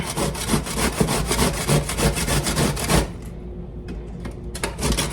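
Zucchini is grated by hand in a kitchen, producing a close, steady run of rapid rasping strokes for about three seconds, then a quieter stretch with a few light scrapes and clicks, with no talking.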